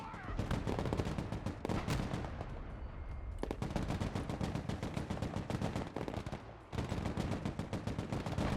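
Rapid machine-gun fire rattles almost without pause in the Broken Arrow video game, dense and loud, with one short lull partway through before the shooting resumes.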